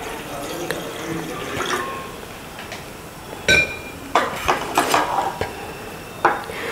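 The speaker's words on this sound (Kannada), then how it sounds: "ಇದಕ್ಕೆ ಸ್ವಲ್ಪ ನೀರು ಹಾಕ್ಕೊಳ್ಳೋಣ." Water poured into a pot on a lit stove for a herbal root tea, with a short trickle and a few close metallic clinks and knocks of the pot and utensils.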